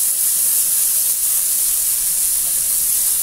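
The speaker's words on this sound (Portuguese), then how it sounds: "Eu vou deixar ele fritar bem, sem óleo, sem nada." Meat fries in its own fat without oil in a Philco Redstone PPE04FS electric pan, giving off a loud, steady, close sizzling hiss that holds unbroken throughout, with no one talking.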